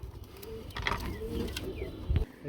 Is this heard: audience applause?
no